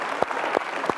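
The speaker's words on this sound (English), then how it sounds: "I think you deserve another round of applause" Audience applause for a debate competitor on a leadership show, a brief burst of clapping with a few louder individual claps standing out close by.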